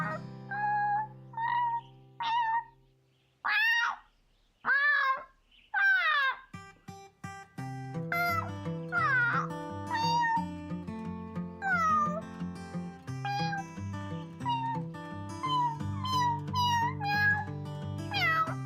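A person imitating a cat: a string of short nasal meows and mewling cries, loud and close, first spaced apart, then running together into a busier stretch of rapid meow-like calls.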